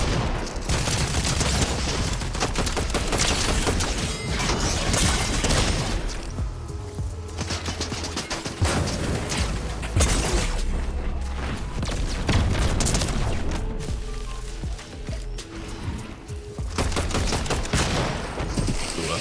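Assault rifle fire in the video game Fortnite rings out as loud, rapid bursts of shots, nearly continuous over a dense layer of game effects with occasional heavier booms.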